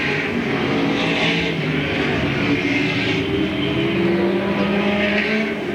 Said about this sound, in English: Gregg Pike in car number 47 set to go at least 1 lap down to the race leaders now as they shuffle by on the outside on the front straightaway